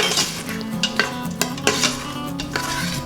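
Utensil stirring a tomato puree and ketchup mixture inside an Instant Pot while chole cooks, giving repeated scraping clinks against the metal pot in an uneven rhythm, close and moderately loud, with no talk.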